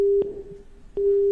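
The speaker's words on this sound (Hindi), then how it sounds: "शायद फोन डिस्कनेक्ट हो गया सर" A phone line gives a steady electronic tone after a call drops during a medical phone-in about mouth and throat cancer, with two tone bursts split by a short gap and a click at each break.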